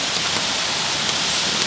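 Steady, dense wash of heavy rain with wind blowing outdoors, a constant hissing roar with no pauses, no voices, and no distinct individual drops.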